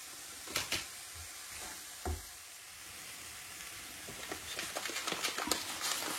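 Onion frying in olive oil with pepper and salt in a pan, a steady sizzle and crackle with a few soft clanks of stirring, fairly close and with no talking.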